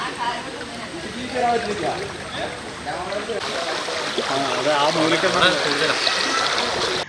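Floodwater rushing steadily after heavy rain in the Tirur area of Kerala, with houses and roads under water; the broad watery flow is loud and continuous, with people talking over it.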